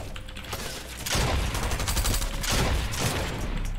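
Rapid bursts of video game gunfire crackle continuously, growing louder and denser after the first second, with sharp repeated shots filling the whole stretch.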